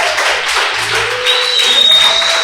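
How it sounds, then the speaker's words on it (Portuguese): A church congregation applauds during a worship service, with brief, dense clapping that stays loud and steady throughout. "Vamos aplaudir Jesus."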